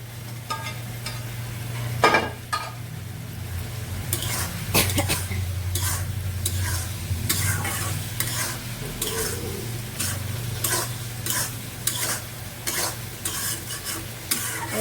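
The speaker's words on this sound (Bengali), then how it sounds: "দিয়ে দিচ্ছি বেগুন ভাজা" Eggplant sizzles in oil while a utensil stirs and scrapes against the pan in repeated strokes, close and fairly loud.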